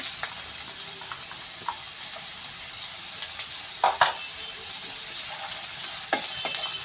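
Two chopped onions and green chilli sizzle steadily in a hot pan for a paneer pepper fry, with a constant frying hiss and a few sharper pops and spatula scrapes near the middle and end.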